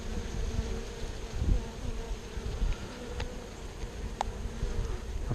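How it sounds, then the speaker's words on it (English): A steady, low insect buzz of bees drones continuously with no voices, joined by a couple of faint, brief higher clicks. "There's a whole bunch of other bees in there too,"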